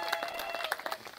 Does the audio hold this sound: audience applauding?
yes